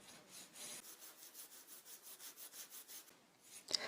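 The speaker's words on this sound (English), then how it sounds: "So I shall carry on filing it straight across" A crystal nail file rasps steadily across a fingernail in quick, even back-and-forth strokes, soft and close, ending with a small sharp tap.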